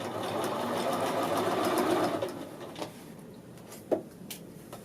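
Sewing machine edge stitching a men's shirt collar band, running in a steady close whir for about two seconds, then stopping, followed by a few light clicks and handling taps.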